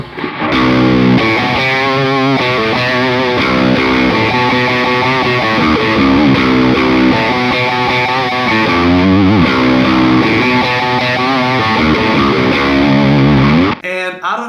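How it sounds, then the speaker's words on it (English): Heavily distorted electric guitar, a Telecaster through a distortion pedal, playing chords and riffs continuously and loudly, thick and saturated, ending with a brief cutoff. "if we turn on the Moonshine and we keep all the clean signal out, so it's basically behaving like a normal distortion pedal"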